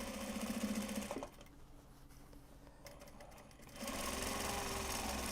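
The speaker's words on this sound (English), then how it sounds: "So I do a little top stitch, back stitch on this corner here because it will be the turning corner" A sewing machine top-stitches the corner of a large Japanese-fabric box bag, running steadily, pausing for about two and a half seconds, then resuming, close and unaccompanied.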